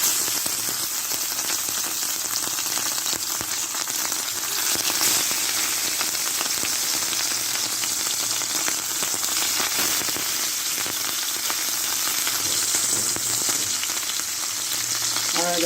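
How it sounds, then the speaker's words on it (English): Fish submerged in hot oil fries with a loud, dense, unbroken sizzle and crackle that holds steady throughout, close to the pan and with no voices. "right now we are going to submerge the fish in the oil"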